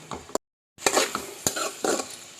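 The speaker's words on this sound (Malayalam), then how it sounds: "നമുക്ക് ഒന്നുകൂടി ഒന്ന് മിക്സ് ചെയ്ത് കൊടുക്കാവേ" A spoon scrapes and clinks around a pan as a dried-fish-maw dish is mixed with turmeric, giving a few sharp metallic knocks and stirring scrapes separated by a brief silence.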